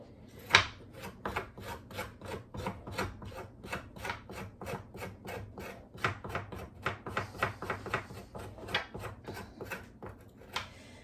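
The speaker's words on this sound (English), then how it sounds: "When they're frozen like this, the skin comes off really easy with the spoon." A spoon scrapes the skin off frozen ginger in quick, rhythmic rasping strokes, close and dry, about two per second and continuing without a break.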